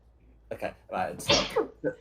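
One sharp sneeze from a person at a tabletop game session, bursting out amid brief casual speech from the same group.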